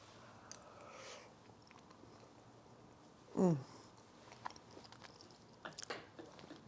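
Someone chewing a mouthful of homemade curry, soft wet mastication close up and quiet, with a brief louder smack partway through and faint clicks of eating afterward.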